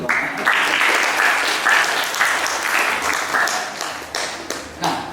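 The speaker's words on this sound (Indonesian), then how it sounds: "itu tepuk tangan dulu" Sustained applause from an audience at a writing workshop and book discussion, dense steady clapping that thins out near the end.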